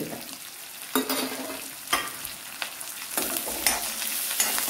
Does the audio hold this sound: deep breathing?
no